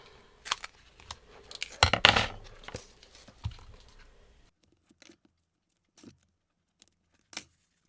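Strips of tape are torn and pressed down over thin vellum on a card, giving a cluster of crackly ripping and tapping noises in the first half, then a few isolated soft taps in near silence.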